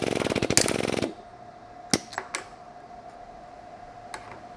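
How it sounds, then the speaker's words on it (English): A self-piercing rivet is pulled out of a car body panel with a VAS 852001A Carbon Visar extraction tool: about a second of loud, rapid mechanical rattling, then a low steady hum broken by a few sharp clicks. "there's the rivet that has now been extracted from the panel"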